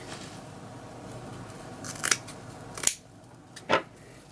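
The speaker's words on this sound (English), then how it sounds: "So I'm just going to cut the mesh" Scissors cutting deco mesh for a patriotic wreath, a few sharp snips after quiet handling noise, close and distinct with no speech.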